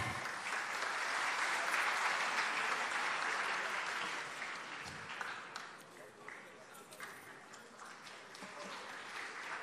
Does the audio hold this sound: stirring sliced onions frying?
no